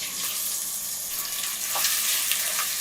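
Chopped onions hit hot oil with spices and fry in a bright, close, hissing sizzle that swells slightly toward the end, with no talking.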